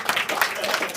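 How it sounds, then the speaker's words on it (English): Audience applause at a corporate and startup matchmaking event, a brief burst of dense clapping from a crowd lasting about a second. "round of applause."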